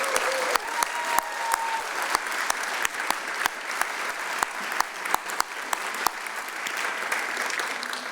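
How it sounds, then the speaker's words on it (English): A gathering claps for the founders of Hedgebrook, with sparse, distinct hand claps standing out over a soft, continuous wash of applause at a quiet to moderate level. "They deserve our recognition and our gratitude and that big round of applause."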